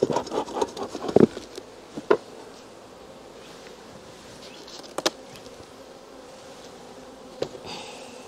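Honeybees hum and buzz steadily around an open hive in September as wooden combs are pushed back together, with scattered knocks and rubbing of frames, busiest at the start and settling into a softer drone.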